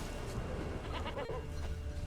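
A goat bleats in the fantasy game The Witcher 3, a few wavering cries over steady background ambience at moderate distance.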